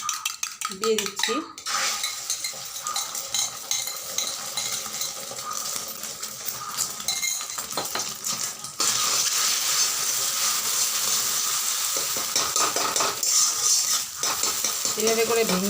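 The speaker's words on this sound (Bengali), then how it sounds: "এভাবে করে ভেঙে ভেঙে ডিমটাকে ভাজতে হবে।" Egg frying in a hot wok while it is broken up with a utensil: steady sizzle under frequent scraping and clinking of metal against the pan, close and loud, growing denser partway through, with no talk.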